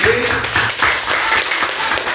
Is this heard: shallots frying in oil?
no